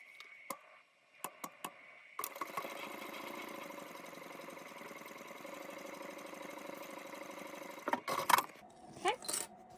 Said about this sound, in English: we're going to stitch right along here at 1/4 of an inch